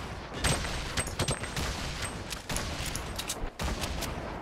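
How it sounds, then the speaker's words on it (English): Rapid gunfire in the Fortnite Battle Royale video game, dense bursts of repeated shots and overlapping volleys, loud and continuous with brief gaps between bursts. "Who the hell's shooting?"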